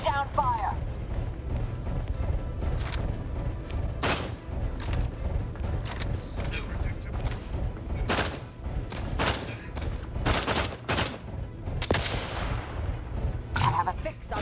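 Dense, sustained gunfire in The Outer Worlds 2, with rapid bursts and sharp repeated shots cracking over a continuous low rumble, loud and close throughout, voices talking underneath.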